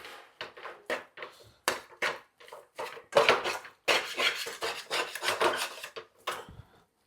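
A spoon scrapes and mixes chicken cutlet mixture in a pan with repeated rough, rasping strokes in irregular bursts, close and fairly loud, with short pauses between strokes.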